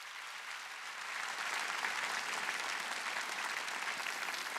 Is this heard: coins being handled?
no